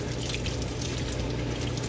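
Steady rush of tap water running over strained beans in a colander for Frito pies, a continuous close splashing flow with no talk.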